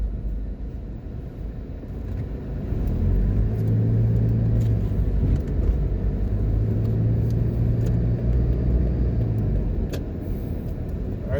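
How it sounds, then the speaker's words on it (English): A car drives along a road into Montego Bay, Jamaica, giving a steady low rumble of engine and tyre noise with a droning hum in the middle and occasional faint clicks, with no talking. "Alright, so we're going to drive into the airport."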